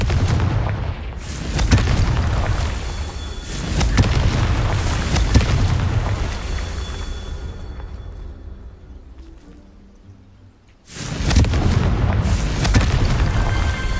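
Spell blasts from the Bombarda and Confringo spells in the Hogwarts Legacy video game, a series of deep booming explosions with rumbling tails, loud and close, fading to a quieter lull before another burst of blasts.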